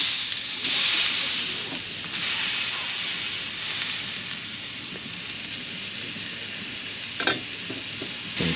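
Salmon and broccoli fry in a crowded pan at a small-town camp cookout, giving a steady close sizzle and hiss with occasional stirring scrapes and a sharp clatter near the end.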